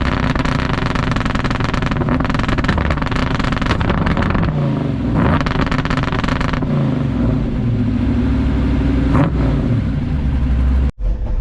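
Pontiac Firebird engine revving hard through its exhaust, loud repeated throttle blips and rising roars with pops between them, close by and with no talking.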